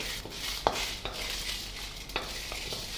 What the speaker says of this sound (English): Now we'll add the red chilies. Let it fry nicely.